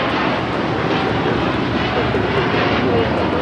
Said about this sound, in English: 801 taking off to Hong Kong on the 787-9 Dreamliner